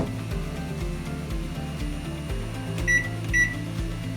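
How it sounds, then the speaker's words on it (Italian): A microwave oven hums steadily while heating melt-and-pour soap base cut into cubes, with a low pulsing drone and a couple of faint high beeps near the end. "Possiamo scaldarlo o a bagnomaria o a microonde."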